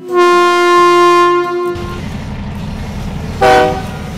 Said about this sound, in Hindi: ट्रेन आके रुका